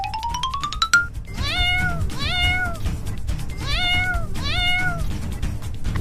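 A kitten meows four times in a clear, evenly spaced series of rising-then-falling cries, close and distinct over a low background rumble, with a brief bright tone at the start.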